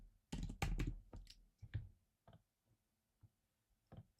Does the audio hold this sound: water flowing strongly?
no